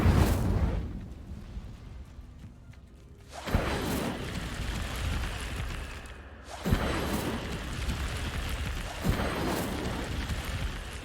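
Incendio fire spells blasting in Hogwarts Legacy, three loud whooshing bursts that hit about every three seconds, each flaring up and then settling into a roaring tail, with no talk.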